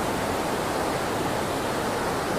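Water rushing through a huge cave on a walking route between Le Mas d'Azil and St. Lizier: a loud, steady, broadband roar that fills the space without pause, with no voices over it.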